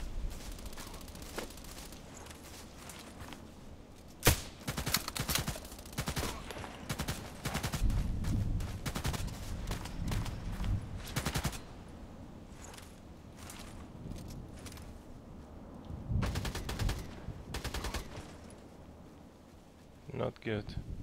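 Shooter game gunfire in heavy, irregular bursts of rapid shots and scattered single cracks, steady throughout, with a person talking over parts of it.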